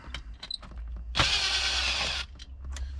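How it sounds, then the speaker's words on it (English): Power screwdriver whirring steadily for about a second at work on fuse, relay and wiring connections, close by, among faint clicks and handling noise. "Screwdriver again."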